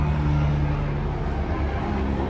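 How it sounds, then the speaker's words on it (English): A helicopter passes overhead above a home garden on a clear day, giving a loud, steady low drone that holds close and constant with a faint pulsing throb. "the helicopter's telling me to hurry the video up, Moses."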